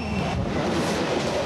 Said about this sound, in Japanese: 夜になっても列車は走って走って走り続けました。